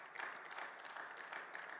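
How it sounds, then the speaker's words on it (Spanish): A church class congregation gives the Lord a sustained round of applause, dense steady clapping filling the room at moderate distance with no break. "Le dan un fuerte aplauso al Señor"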